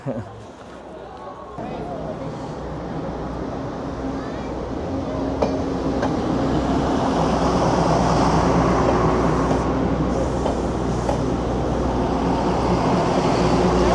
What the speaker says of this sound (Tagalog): Ayun na, tren. Ay, dadaan na tren.